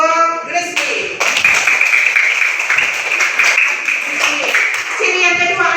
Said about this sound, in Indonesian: tepuk tangan untuk Grizzly.